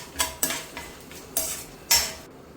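Mustard seeds, cumin, peanuts and lentils fry in a pan while a spoon stirs them, making about six sharp scraping clinks over a quiet, steady sizzle for masala chitranna.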